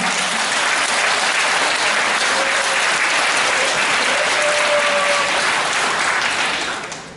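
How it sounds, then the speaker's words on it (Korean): An audience applauds at a women's week speech contest event in Korea, with loud, dense, even clapping that holds steady for about seven seconds before tapering off at the end. "우리 큰 박수로 한번 힘을 실어 드려주시죠"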